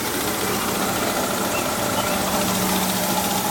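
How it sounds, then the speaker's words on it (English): Car air-conditioning compressor on a 1969 Ford Falcon wagon, running steadily while refrigerant is charged, a loud continuous mechanical drone and whir close by with no pauses. "The compressor doesn't sound too bad."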